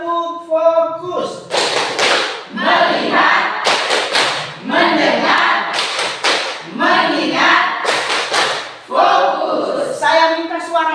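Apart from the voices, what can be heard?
class doing the rhythmic 'tepuk fokus' clapping routine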